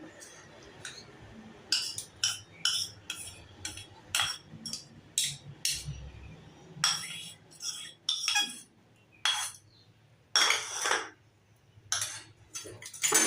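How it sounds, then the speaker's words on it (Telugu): Ingredients for a bitter gourd pickle, including onion and tamarind pulp, are mixed in a bowl, giving irregular clinks and scrapes of a spoon against the dish, close and fairly quiet. "ఇలా మొత్తం కలిసేలాగా మిక్స్ చేసుకోవాలి"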